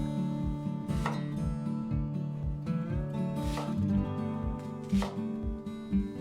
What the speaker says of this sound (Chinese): 一个洋葱切成块